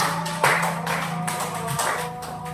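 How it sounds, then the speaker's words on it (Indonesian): An audience claps for group 3 after its presentation: a steady, dense patter of many hands that runs the whole stretch, with a low hum underneath and no talking. "Tepuk tangan kelompok 3"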